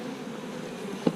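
Honeybees swarm around a beekeeper at an open hive, filling the air with a dense, continuous buzzing hum, close and steady, with a brief knock near the end.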